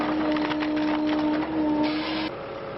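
Hydraulic log splitter with a hardened steel crossblade forcing a giant tree trunk section apart, a loud steady mechanical whine and hum with creaking, cracking wood over it, ending in a lower drone, with no talk.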